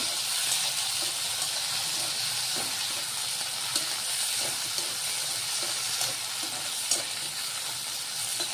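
Chopped tomato cooks with sambar in a pan, giving a steady close sizzle and hiss with occasional soft clicks of stirring and no talk.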